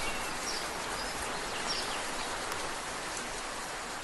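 Rain falling in a steady, dense hiss of drops, close and even throughout, with no voices.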